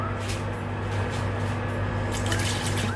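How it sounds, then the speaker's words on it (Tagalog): Water pours steadily into a pot holding raw pork, a continuous splashing fill that grows brighter and louder toward the end, recorded up close. "lalagyan po natin ng water"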